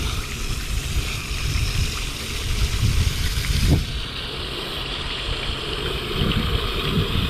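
Water rinses a dirty K&N air filter, a steady hissing splash of running water that stays loud and constant throughout, with no talking.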